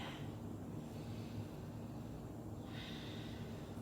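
A deep inhale is drawn during a mobility exercise flow, a soft, close breath through the nose, with a second airy intake near the end over quiet room hiss.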